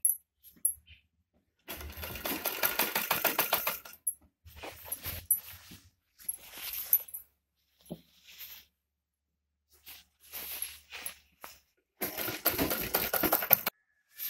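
A sewing machine stitches the seams of a tulip salwar in two bursts of rapid, rattling needle action. Brief cloth-handling noises fill the quieter gaps between the runs.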